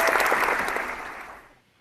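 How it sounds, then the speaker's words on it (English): A brief burst of applause from a small group, steady at first and then tapering off to silence within two seconds. "He gets a clap too"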